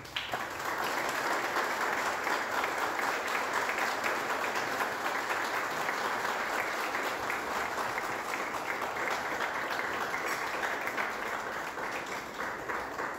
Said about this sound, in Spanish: yo les pido un aplauso para Lucely